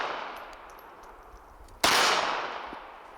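A single sharp shot from a Walther CCP M2 .380 pistol cracks out near the middle, loud and close, followed by a fading ring, with quieter range ambience and a faint distant report before it.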